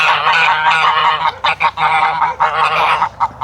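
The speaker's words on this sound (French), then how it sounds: "beaucoup d'oies." Several geese honk loudly and repeatedly up close, their harsh nasal calls overlapping in quick bursts with brief pauses between.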